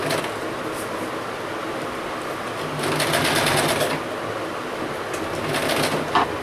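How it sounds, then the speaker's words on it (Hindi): A sewing machine runs steadily, stitching the seam of a small half pant for a doll, with a continuous whirring hum that swells louder in a couple of faster bursts. "इसी तरह मैं दूसरी तरफ भी सिलाई करूंगी।"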